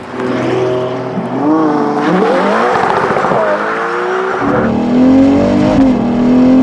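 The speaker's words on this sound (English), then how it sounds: "So I would say we start driving and see what this car brings on the street." A Novitec Esteso widebody Ferrari Purosangue pulls away with loud, rising engine revs and gear changes, the exhaust note climbing and dropping through several surges, close by and dominant.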